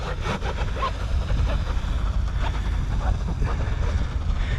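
A TFL Zonda RC boat runs on open water, a continuous rushing, buzzy motor drone blended with splashing and wind buffeting on the microphone, steady and fairly close.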